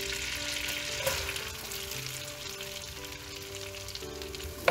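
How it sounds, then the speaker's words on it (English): Onions sizzle and fry in hot butter for a macaroni and cheese recipe, a soft steady crackle with light stirring clatter, fairly quiet and without talk. "Once butter is boiled, next we can add our onions."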